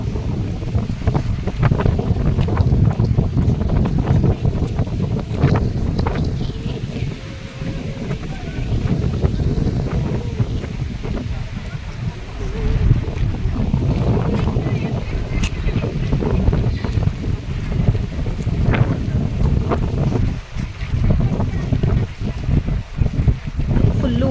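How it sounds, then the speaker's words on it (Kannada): Strong wind over an open, low-lying lakeside spot near Melukote buffets the microphone in a continuous, loud roar with gusting surges throughout, and voices are faintly present underneath. "ಸ್ಪೇಸ್ ಇರೋದ್ರಿಂದ ತುಂಬಾ ಗಾಳಿ ಮತ್ತೆ ಸಿಕ್ಕಾಪಟ್ಟೆ ಗಾಳಿ"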